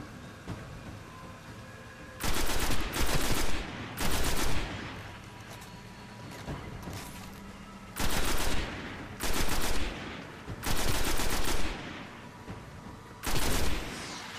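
A weapon in the video game Destiny fires in repeated loud, rapid bursts, each about a second long, separated by short pauses over quieter background game sound.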